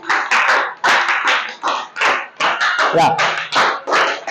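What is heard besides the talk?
audience applause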